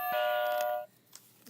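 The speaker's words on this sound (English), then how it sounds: "Went the golden church bell." A golden church bell strikes once with a bright, ringing tone that sustains for under a second before cutting off, leaving near silence with a faint later sound.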